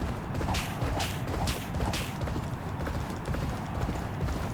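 Rapid hoofbeats of racehorses galloping in a video game race, a steady drumming rhythm, loud and continuous, with a dense rumbling crowd-like background.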